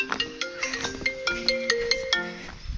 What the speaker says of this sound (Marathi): बघा फोन यायला सुरुवात झाली.